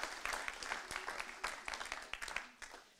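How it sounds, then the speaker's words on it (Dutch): A short, quiet round of applause from the audience at an investigative journalism symposium, with distinct scattered claps that thin out toward the end. "Dan wilde ik een applaus graag voor Henk Bos."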